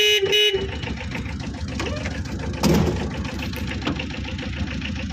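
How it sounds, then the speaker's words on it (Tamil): Two short, close honks of a 2011 Tata Ace truck's horn sound at the start, followed by the small diesel engine idling with a rough, knocking rumble and a few clunks. "ஹார்ன் அடிக்கும்."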